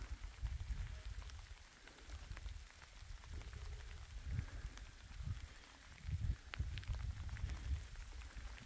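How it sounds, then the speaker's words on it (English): Steady rain patters on surfaces, with soft low thumps and rustling beneath the continuous hiss. "It's supposed to rain like this all night."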